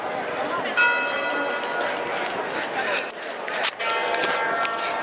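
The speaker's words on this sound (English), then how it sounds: "Oh, and the bell is moving." A church bell rings high in the dome of St Peter's Basilica in Rome, its sustained tones sounding slightly off pitch over a steady crowd murmur and footsteps, with a short louder swell partway through.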